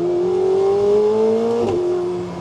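McLaren 750S supercar engine revving up as a close, loud, smooth rising tone, with a brief shift-like break near the end before the note settles again.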